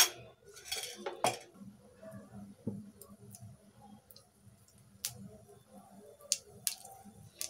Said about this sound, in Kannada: ಸಾಸಿವೆ ಪಟ ಪಟ ಅಂತ ಸೌಂಡ್ ಬರ್ತಿದೆ ನೋಡಿ.